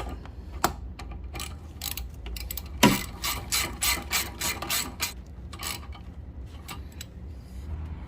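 A ratchet tightening bolts on a Honda CR-V 2.4L engine mount, a series of close, sharp clicking strokes in quick bursts with short pauses between them.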